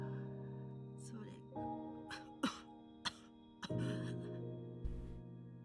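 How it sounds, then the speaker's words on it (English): An old woman in the visual novel Flowers breaks into a coughing fit: several sharp throat-clearing coughs in a row over soft background music, close and fairly loud. "Mother Elder lapses into a coughing fit."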